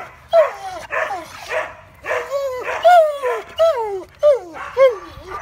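A dog whimpers and yips in a series of rising, whining cries with short pauses between them, close and fairly loud, with no talking.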